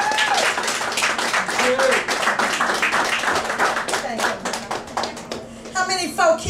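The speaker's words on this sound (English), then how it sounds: "Let's give her a round of applause." An audience at a political campaign event applauds, a loud burst of many hands clapping throughout, with voices heard over it near the end.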